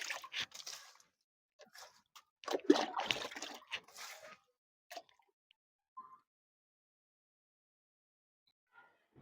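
Liquid fertilizer poured around a large sweet lime tree in a terrace garden, heard as wet splashing and dripping in several short bursts close by, then a few faint drips before quiet.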